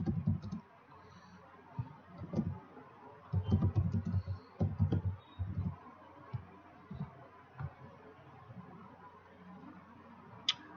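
Typing on a computer keyboard, a close series of soft key clicks in short irregular bursts with pauses between them, fairly quiet and heard alone.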